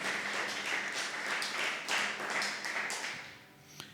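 A church congregation claps together during a Spanish-language sermon, rhythmic, fairly close applause that fades out near the end with a sharp tap.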